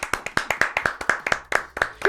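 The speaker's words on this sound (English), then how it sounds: "Final round of applause." A few people in a podcast studio clap in a quick, even rhythm, each sharp clap close and distinct, with no talking over it.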